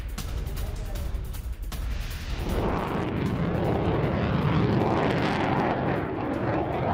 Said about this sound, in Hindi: Su-35 ने नीची उड़ान भरी।